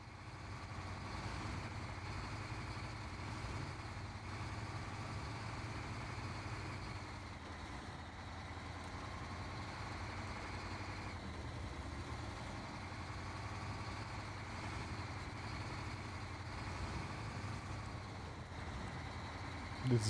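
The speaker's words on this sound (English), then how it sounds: "Listening to the engine." A truck engine idles steadily in the off-road driving game Snowrunner, a continuous low rumble with a constant drone that holds even and unbroken for the whole stretch, with no talk over it.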